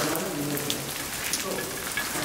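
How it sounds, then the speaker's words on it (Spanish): Steady rain patters and hisses close by, a dense continuous wash of drops with no voices, at an abandoned flooded factory in Spain. "y está lloviendo"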